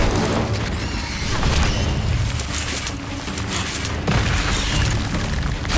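Spell blasts from the video game Hogwarts Legacy, a dense, continuous roar of booming fiery explosions and crackling bursts that stays loud and close throughout, no talking.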